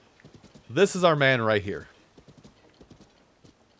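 Horse hooves clip-clop in Tears of the Kingdom, with a loud horse whinny in the middle of the clip and soft, steady hoofbeats before and after it. Someone talks over the hoofbeats.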